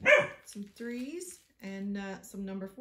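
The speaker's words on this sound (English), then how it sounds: "That was my dog." A dog barks and yips a few times nearby while a person talks over it.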